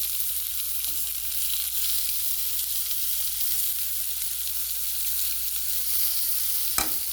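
Baby zucchini sautéing in olive oil over a hot fire, giving a steady, close sizzle with faint stirring scrapes and a sharp tick near the end, no talking.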